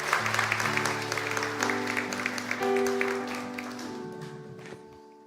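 A church congregation at a Sunday service applauds to welcome a missionary, sustained dense clapping from many hands that fills the room over a few seconds, with music tones held underneath.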